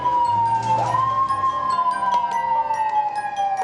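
An ambulance siren sounds steadily and loudly with a sustained, slowly wavering tone, close by and unbroken, over low traffic rumble.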